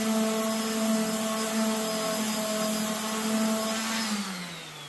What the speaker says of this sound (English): I want to sand this little bit right here so it doesn't make my router jump.